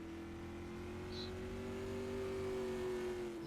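Race car engine accelerating steadily onto the track at the green flag during time trials at the Jim Shampine Memorial, a sustained rising engine tone heard alone without talk.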